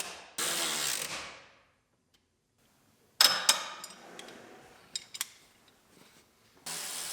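A ratchet wrench unbolts the seatbelt adjusters on a twice-totaled GMC Terrain Denali, giving loud bursts of rapid clicking that start and stop, with a quiet gap between the first run and later clicks.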